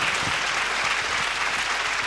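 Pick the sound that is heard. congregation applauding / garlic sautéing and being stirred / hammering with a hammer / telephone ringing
congregation applauding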